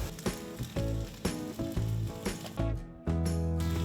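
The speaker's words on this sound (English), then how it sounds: "now we're gonna add this beautiful steak. Ooh, listen to that sound" Steady, crackling sizzle of a steak searing in a hot cast iron pan on a Big Green Egg grill, loud and close, with a few sharper pops and spits over the continuous fry.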